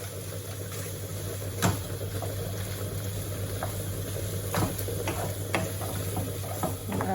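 Mushroom stroganoff with frozen peas is stirred in a pan, giving a steady soft sizzle and scraping with a few sharper clicks of the utensil against the pan near the start and middle.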